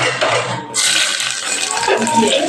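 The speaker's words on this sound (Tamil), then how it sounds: "நல்லா பொரிஞ்சதுக்கப்புறம் நம்ம வெங்காயம் போட்டுடலாம்" Chopped onions drop into hot oil in a pan for tomato rice, setting off a sudden loud, steady sizzling hiss that carries on to the end, close up.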